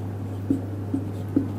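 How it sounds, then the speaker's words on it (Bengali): A pen writes during a general-knowledge lesson, giving three soft, short scratching strokes evenly spaced over a steady low hum, with no talking. "জাস্ট আমরা লিখলাম"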